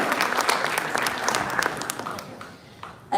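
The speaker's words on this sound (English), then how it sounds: "Can we have another round of applause for all the students who have already performed and those who are yet to come?" Audience applause for performing students at a school's Golden Jubilee founder's weekend event, a full round of clapping from a crowd that gradually tapers off, with a brief sound right at the close.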